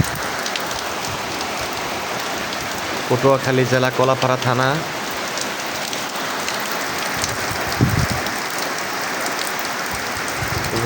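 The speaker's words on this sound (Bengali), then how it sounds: "গাছ দেখতেই পাচ্ছেন, বৃষ্টি পড়তেছে অনবরত।" Heavy monsoon rain pours steadily on a coastal area of Kalapara, Patuakhali, near the sea, a dense unbroken hiss drumming on surfaces throughout, while someone speaks briefly partway through.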